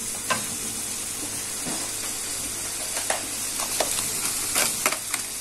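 Spices are stirred into a mixture fried with coriander and parsley in a pan, a dense, loud, continuous sizzle with scattered scraping and tapping from the spoon, and no voices.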